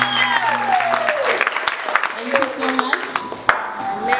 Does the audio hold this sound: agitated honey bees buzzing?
no